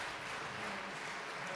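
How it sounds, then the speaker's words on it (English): Audience at an awards closing ceremony applauding, a steady, even wash of many hands clapping heard from a distance, quiet and without talk. "And we should all give her a round of applause."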